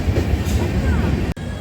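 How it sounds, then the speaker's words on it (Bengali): The Kolkata–Darbhanga Mithila Express pulls into platform 2 at Burdwan station, a close rumble of rolling railcars with wheel clatter and a faint squeal, ending in a sudden brief drop. "কলকাতা দারভাঙা মৈথিলী এক্সপ্রেস এসে পৌঁছালো বর্ধমান স্টেশনের 2 নম্বর"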